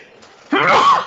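A single sudden, loud sneeze erupts close by after a brief breathy intake, ending in a short wheezy tail.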